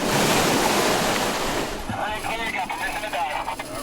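Ocean surf roars loudly as a research submersible is lowered into open water about 88 miles off the Florida coast, the broad wash easing after two seconds into lapping, sloshing water against the hull with some wind noise.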